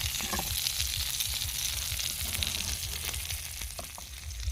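Chicken sizzles on a hot sizzling plate as flaming chicken is prepared, a close, steady, dense crackling hiss that runs the whole time with no talking.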